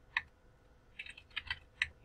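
Faint, close keystrokes on a computer keyboard while configuring a Cisco router, a single tap followed by a short burst of several clicks in a quiet room.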